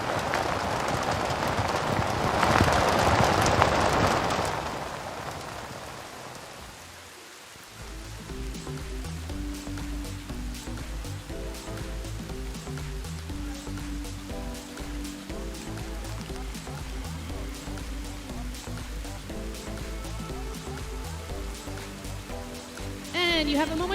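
Heavy rain pours at an outdoor canoe sprint venue, a dense hiss for the first few seconds that fades, then gives way to music and a voice speaking over it.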